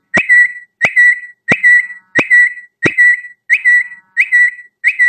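An Apple phone's whistling ringtone repeats eight times at a steady pace, each a short bright whistled chirp, loud and close with silence between them.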